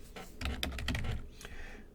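Keys clatter in a short burst of typing on a computer keyboard, a quick run of close, soft clicks with no voice over them.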